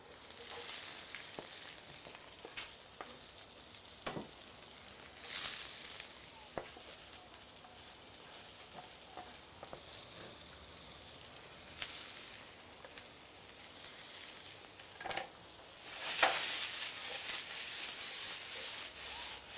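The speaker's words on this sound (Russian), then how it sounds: "И ждем, пока лучок обжарится до золотистости и станет чуть-чуть мягким." Onion and ginger sizzle and crackle softly in a hot frying pan, with occasional scraping and stirring clatter and a louder burst of sizzle near the end.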